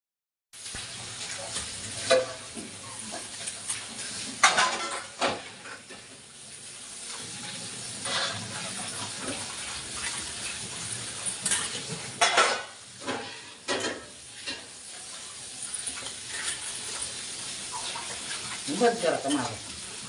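Puffed rice (chirmure) being washed in water, with intermittent splashing, sloshing and scraping against a vessel, close and moderately loud over a faint steady background, with irregular bursts throughout.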